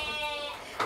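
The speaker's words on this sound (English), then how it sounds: "these are little ones, some of our little goats right here." Young goat kids only days old bleating at feeding time on a farm in Door County, Wisconsin, one loud wavering cry held close up, then a brief rustle at the end.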